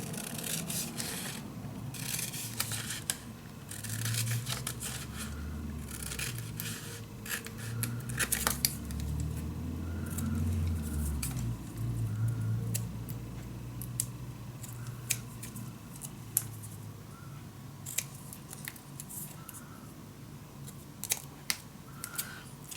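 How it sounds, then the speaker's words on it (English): Scissors cutting out paper pieces for a handmade magic box craft, a steady run of quiet close snips and rustling paper over about twenty seconds, with no talking. "you also can cut these out with your scissors"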